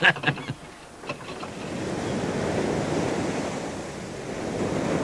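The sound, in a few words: ocean waves during a sea crossing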